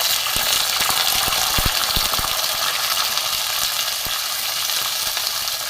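Flat beans dropped into hot oil with a bay leaf and nigella seeds, setting off a loud, steady sizzle with occasional sharp crackles and spoon clicks close by.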